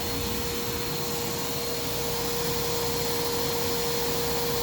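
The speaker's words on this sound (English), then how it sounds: "Don't suck that up in a bag vacuum." A Shark Navigator Swivel Plus (NV46) vacuum cleaner runs steadily and loudly throughout, a constant droning whine with a strong hum and no pauses.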